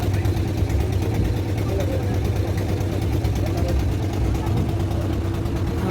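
The engine of a river boat on the Ichamati drones steadily and loudly throughout, a continuous low rumble mixed with some water noise and no break.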